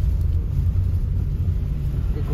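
A new Suzuki Ertiga driving at night, heard from inside as a steady low engine and road rumble throughout, close and continuous, with no sharp changes.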